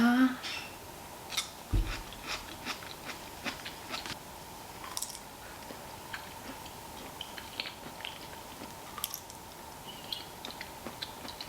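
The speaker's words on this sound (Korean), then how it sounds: "대강 대강 만든 양념장을 먹어보도록 하겠습니다." Someone eats a homemade seasoning sauce, producing soft, close crunching and chewing clicks in an irregular rhythm over a steady background hum.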